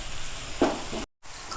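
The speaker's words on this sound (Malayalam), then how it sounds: "അപ്പോൾ നമുക്കൊന്ന് അടിയൊന്ന് ഇളക്കി കൊടുക്കാം" Tawa chicken masala is stirred in a small pan, a close, steady sizzle of frying with a brief scrape of the spoon, cut by a short silent gap.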